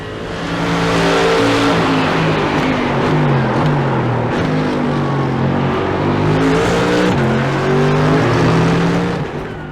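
Simulated Mercedes-AMG GT3 2020 race car engine in iRacing, a loud continuous roar with stepping pitch shifts as the gears drop, blipping and settling around each downshift, steady and close throughout with no talk.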